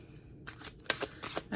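Brand-new, slippery tarot cards being shuffled by hand, with bursts of crisp riffling and sliding that start and stop in short clusters, close and fairly quiet.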